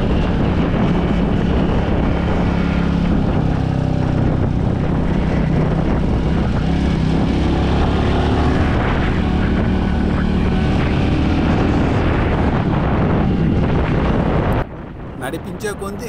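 A 2025 Royal Enfield Bullet 350 motorcycle rumbles loudly and continuously with a deep, thumping single-cylinder engine beat, probably while riding, before cutting off abruptly near the end.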